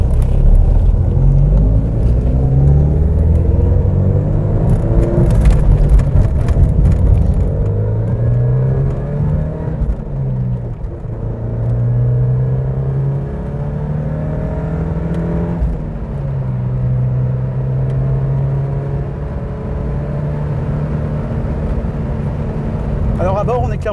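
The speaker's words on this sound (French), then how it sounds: "Il s'agit d'un moteur 4 cylindres 2 litres avec un turbo Garrett qui va développer jusqu'à 204 chevaux." A 1986 Ford Sierra Cosworth with a 2-litre turbocharged four-cylinder Garrett-turbo engine drives on a private track, its engine droning and rising through revs in long steady pulls, heard from inside the car.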